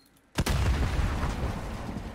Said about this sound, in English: He threw a nade.